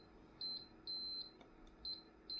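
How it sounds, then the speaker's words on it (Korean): Faint electronic beeps from a Dometic Saneo caravan toilet main circuit board, short high-pitched tones in irregular pairs and bursts over a low background hum. "지금 삐삐거리는데"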